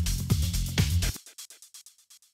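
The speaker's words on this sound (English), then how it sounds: "I had a go at recreating the distorted guitar sound you hear throughout the track." A recreated distorted guitar sample in the style of Leftfield's Open Up, a gritty sustained tone over rhythmic low-end pulses, then dropping to a dry sequence of short repeating bursts echoing away without talk.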